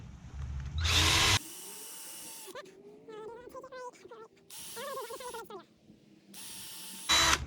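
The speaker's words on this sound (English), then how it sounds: "I'm going to actually drill." A cordless power drill bores into a 2x4 wood board for a workbench build in short bursts, motor whining up loud and stopping, with a ratcheting clutch sound between runs and brief talk in the gaps.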